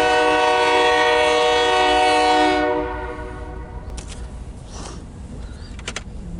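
A loud CSX grain train of covered hoppers rumbles past with a steady harmonic horn-like tone that cuts off, leaving a lower rolling rumble and clanking.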